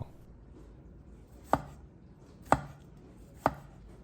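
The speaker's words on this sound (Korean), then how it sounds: "준비한 포도는 칼을 사용해서 썰어주시면 되는데요" Three sharp knife chops through green grapes on a cutting board, spaced about a second apart, close and clear against a quiet room.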